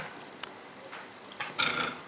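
A dog at home lets out a few short, fairly faint growly barks and whimpers directed at a cat, separated by quiet pauses with no talking.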